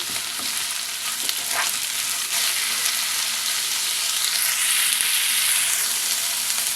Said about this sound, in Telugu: ఇప్పుడు దీనిలో మనం ముందుగానే రెడీ చేసి పెట్టుకున్న దొండకాయ ముక్కలు వేసేద్దాం వీటిని బాగా కలుపుకుందాం